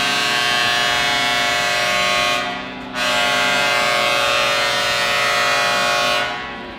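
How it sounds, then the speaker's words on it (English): A loud, sustained siren or horn blares through a high school hockey arena, holding steady for over two seconds, cutting off briefly, then sounding again and fading out. "you guys could hear that loud siren going on, or that horn"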